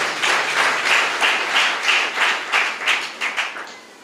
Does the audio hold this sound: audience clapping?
yes